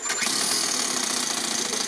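A small four-stroke overhead cam engine fitted in an RC car runs steadily close by, a dense, buzzy mechanical drone with fast, even firing pulses and no talk over it.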